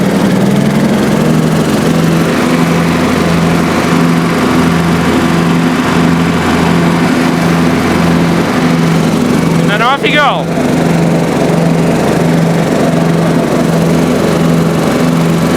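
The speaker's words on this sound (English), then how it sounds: "Nice running lawnmower." A 1986 Honda HT3810 riding lawn mower engine drones steadily at close range, holding an even pitch throughout while someone speaks briefly over it.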